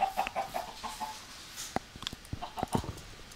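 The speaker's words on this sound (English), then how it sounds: "I want a lot of chickens before I start killing the chickens" Chickens in the Minecraft video game give soft, scattered clucks, a few short bursts spread across a few seconds at a modest level with no talking.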